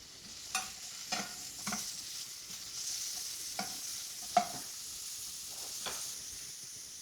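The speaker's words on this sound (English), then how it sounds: "what we want to do now is just to saute some onions" Chopped yellow onions sauteing in oil in a pan, a soft steady sizzle punctuated by a series of spoon scrapes and taps at irregular intervals, quiet and close, without speech.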